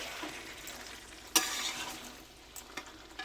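Dragon chicken stirred in a frying pan with a cornflour coating, a soft scraping and sizzling texture with a sharp clack of the spatula midway and a few lighter knocks later.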